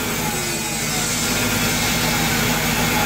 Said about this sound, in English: So it's still idling fast.